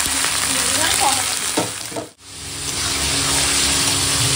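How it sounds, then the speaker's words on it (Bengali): Yogurt-marinated chicken and chopped tomato hit hot oil with fried onion and chilli in a pan, a loud steady sizzle broken by a couple of stirring scrapes and a brief drop before the frying roars back. "এখন দিয়ে দেবো টক দই মাখানো মাংসটা"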